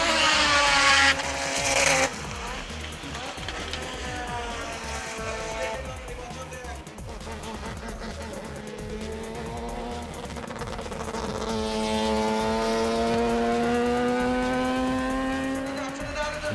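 Race cars, including a Mazda, roar past at the Wallerfield circuit in Trinidad, their engines rising and falling in pitch as they go through the gears, loud and fairly close, one car after another.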